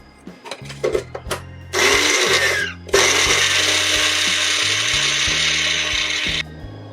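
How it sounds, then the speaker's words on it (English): A kitchen blender whirs through flourless pancake batter in two sustained bursts, preceded by knocks and clicks of handling, with a steady motor whine and a sudden stop near the end. "So I'm just gonna blend it a little bit more."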